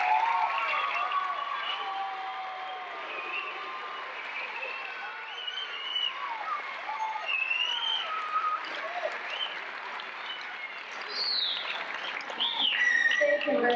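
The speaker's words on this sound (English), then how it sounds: "let's now acknowledge this graduating class with a round of applause" A large audience at an adult education graduation ceremony applauds in a long, continuous wash of clapping, with faint chirpy whistles and cheers rising over it near the end.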